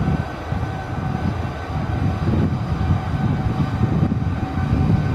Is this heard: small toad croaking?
no